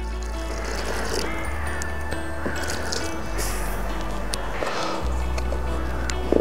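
Water poured from a container into kale simmering in a Dutch oven, a steady liquid splashing and trickling close by, with soft drips and a squishy wet texture, no talking.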